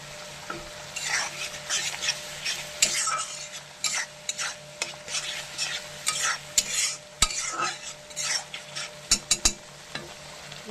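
Kashmiri chili powder frying in a pan, with repeated close scraping stirs and clinks of a utensil over a continuous sizzle, irregular bursts across the whole stretch.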